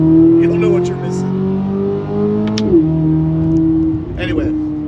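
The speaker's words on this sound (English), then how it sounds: "you want to take care of this flat plane crank. Listen to this baby." A Chevrolet Corvette C8 Z06 with a flat-plane-crank V8 idles loud and close with a strong steady drone, and its pitch swings as the revs rise and fall twice.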